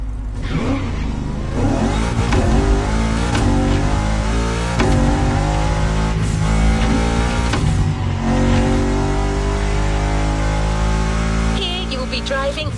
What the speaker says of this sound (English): Driving a Toyota Tacoma, a very popular truck here in Hawaii.